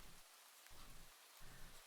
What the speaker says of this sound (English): It's rain right now